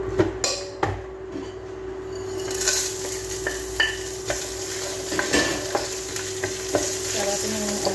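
Food sizzling and frying in a pan while a utensil stirs it, giving steady close hiss with irregular scraping and clinking taps against the pan throughout.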